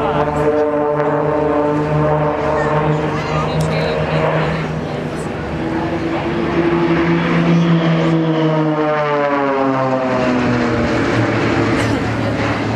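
Blades aerobatic team propeller aircraft sweep low past an airshow crowd, a loud droning engine roar with sliding pitch as the planes pass, continuous and near, with a commentator speaking over it.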